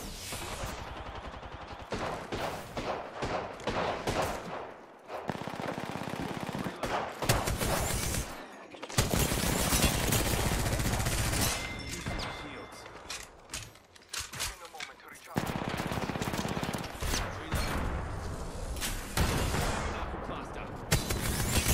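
Apex Legends gunfire in a busy firefight, dense bursts and rapid automatic volleys rattling almost continuously with short gaps, loud and close, mixed with mechanical clatter and occasional players talking underneath.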